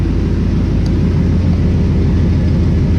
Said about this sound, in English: that's how she sounds idling